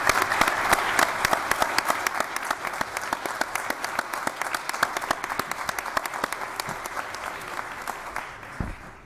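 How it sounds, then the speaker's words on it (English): Sustained audience applause at a county board meeting, many hands clapping densely and steadily for several seconds before tapering off near the end. "Join me in applause"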